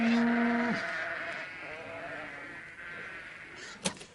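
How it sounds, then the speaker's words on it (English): Sheep bleat in a farmyard, one clear long bleat up close followed by softer wavering bleats further off, with a brief knock near the end. "instead of a simulated farmyard, say, well, we could have the real thing."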